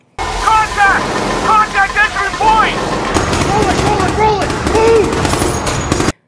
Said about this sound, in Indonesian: Suara tembakan mulai terdengar tak lama setelah itu.